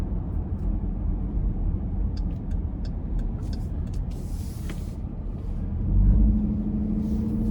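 A 2024 Dodge Durango R/T with a 5.7 V8, eight-speed automatic and aftermarket exhaust cruises along with a steady low cabin rumble, a deeper exhaust swell rising briefly near the end, plus faint ticks and clicks inside.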